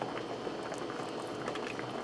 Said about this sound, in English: I'm going to let this simmer for a few minutes